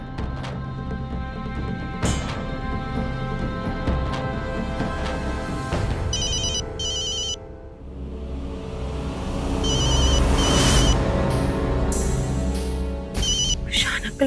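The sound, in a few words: phone ringing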